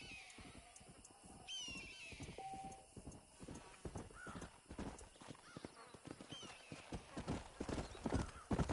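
Horse hooves clip-clop steadily in Red Dead Redemption on PS4, close and fairly quiet, with a horse whinnying and faint bird calls in the background.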